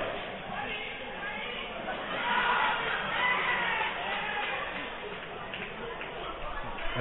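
Crowd noise at a baseball game in Adelaide, a steady broad murmur of spectators that swells briefly in the middle, heard under an announcer's commentary.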